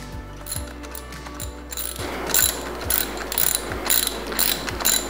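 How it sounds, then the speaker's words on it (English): A clamp is ratcheted tight on a Compass R circulator pump head, giving a series of close, evenly spaced mechanical clicks that grow louder and sharper partway through. "Slip the clamp back over and then tighten it back up again."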